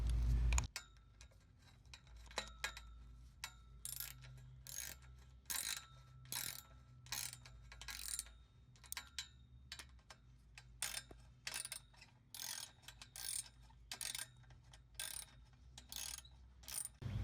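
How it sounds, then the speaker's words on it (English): A half-inch socket wrench ratchets bolts on a swimming pool handrail, giving rhythmic bursts of fast, crisp clicking separated by short pauses. The clicking is close but fairly quiet, with no talking. "And we'll take our socket wrench."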